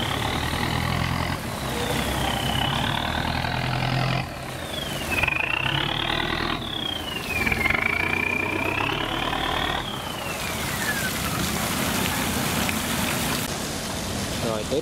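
Loud turbocharged engine on a rice-hauling boat roars steadily near a canal lock, with a rising and falling whine sweeping over the drone and occasional voices.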